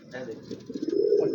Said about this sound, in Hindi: ये बहुत तेज़ कबूतर है मेरे